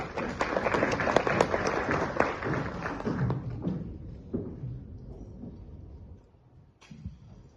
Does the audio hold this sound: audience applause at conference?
yes